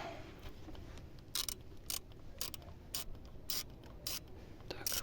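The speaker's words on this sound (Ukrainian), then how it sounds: "Просовую туди в отвір і, і відкручую." An 8 mm socket and ratchet loosen a bolt on a Bosch VP44 injection pump of an Opel Frontera, making about ten short, crisp ratcheting bursts at uneven intervals, fairly faint, with no talking.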